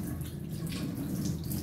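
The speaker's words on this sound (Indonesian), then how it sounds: "nyalakan keran terlebih dahulu dengan air yang mengalir secara secukupnya" A tap runs steadily for handwashing, producing a soft, even stream of water that stays quiet and continuous throughout.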